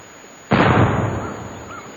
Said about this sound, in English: they was firing cannon over the water, trying to make my carcass come to the top